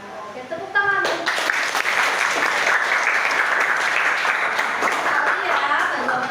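A class of students breaks into applause after a faint opening murmur, many hands clapping steadily and close, with some voices mixed in.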